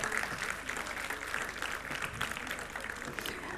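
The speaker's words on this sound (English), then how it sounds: "Dr. Shritama, a big round of applause." Audience applause at a university convocation and foundation day ceremony during an award presentation, steady dense clapping throughout at moderate level with a faint voice mixed in.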